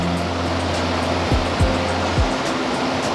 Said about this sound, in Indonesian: Kemudian aliran sungai yang sebegitu derasnya, dikelilingi perbukitan.